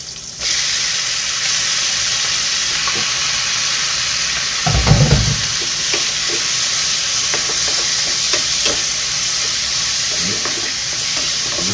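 Pork frying in a pan with sautéed onion for a Filipino saba banana dish, a loud steady sizzle and hiss throughout, broken by a burst of stirring scrapes midway and lighter clatters later.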